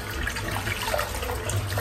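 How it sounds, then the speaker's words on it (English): A tap runs steadily for rinsing a razor, giving a soft, continuous splash and hiss at low level with no talking. "I'm going to rinse it out of the tap"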